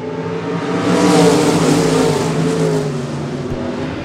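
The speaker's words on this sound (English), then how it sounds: "12 laps to distance for the 305 IMCA Race Seaver Sprint Cars as we go green" A pack of 305 IMCA sprint cars roaring away at the green flag at a speedway, loud layered engine drones swelling to a peak and then easing slightly as they pull away, with no voices heard.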